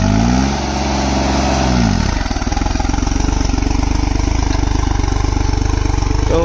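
Tractor engine pulling a harrow in third high gear at low RPM, a loud steady diesel chug with a deep pulsing throb throughout, briefly revving down near the start before settling into a continuous labored rhythm.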